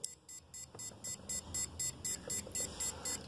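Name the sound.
Arduino smart water tank alarm beeping as water drains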